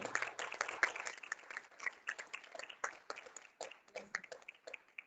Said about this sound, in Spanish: Y les voy a presentar, que me ayuden, por favor, a seguir con un gran aplauso, a Mariana Guzmán